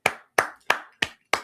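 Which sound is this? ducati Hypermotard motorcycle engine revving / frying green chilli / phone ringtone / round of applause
round of applause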